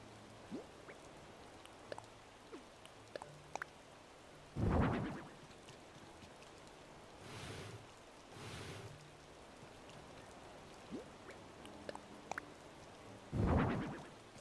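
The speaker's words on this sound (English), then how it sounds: "I do like the rain." Soft, steady rain patters in the Animal Crossing: New Horizons video game, quiet and even, broken by a few louder low rumbling swells.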